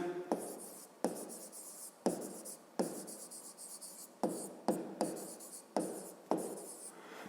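A pen scratches out a fifth-grade math exercise on paper, writing in short strokes with distinct pen-down taps and brief pauses, close and clear with no talking.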